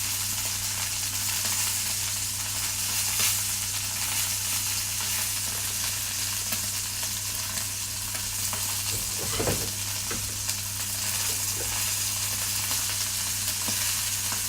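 Duck pieces fry in a hot pan with a loud, steady sizzle that carries on unbroken, plus a brief clatter of stirring partway through. Nobody speaks.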